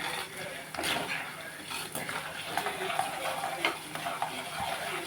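Spices sizzle and crackle in hot oil in a pan, with the scrape and clink of a spoon stirring now and then.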